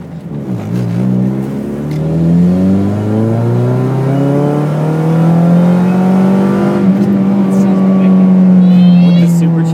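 A car fitted with an electric turbo and a supercharger revs hard, its engine note rising in a long, loud, close sweep before holding at a steady high drone, with voices talking over it.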